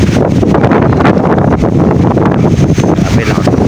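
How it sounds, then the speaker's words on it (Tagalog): Heavy wind buffeting the microphone, a loud continuous low roar and rumble that fills the whole clip. "Grabe lang ang hangin na."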